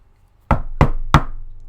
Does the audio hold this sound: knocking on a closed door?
yes